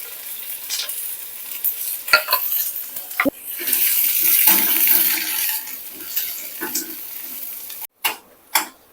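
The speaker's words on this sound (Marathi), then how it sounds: "कांदा थोडासा परतून घेतलाय एक मिनिटभर" Chopped onion sautés in a pan with an uneven sizzle, interrupted by sharp scrapes and clatters of stirring and a few abrupt knocks near the end.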